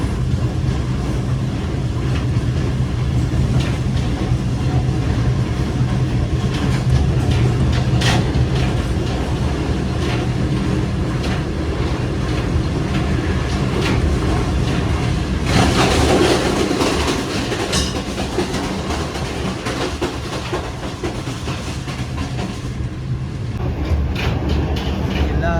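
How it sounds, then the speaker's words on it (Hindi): The 28DN Shalimar Express on the Lahore to Karachi line rolls through Chichoki Mallian railway station. A loud, continuous rumble of wheels on rails carries steady clatter and rattling throughout, with a brighter surge of noise midway. "चीचुकी मनिया रेलवे स्टेशन से गुजर रही है 28 नाउ।"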